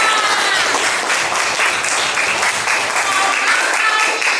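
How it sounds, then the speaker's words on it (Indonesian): A fourth-grade class applauds a classmate in a Scout uniform on Scout Day, close, loud clapping from many hands with a few voices mixed in, continuing evenly. "tepuk tangan buat Rohman"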